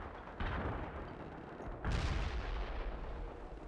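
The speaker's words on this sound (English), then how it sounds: "Incoming fire! Get down!" Artillery and gunfire in World in Conflict: Soviet Assault rumble as a dense, distant-sounding barrage, with a deeper boom partway through over continuous low rolling noise.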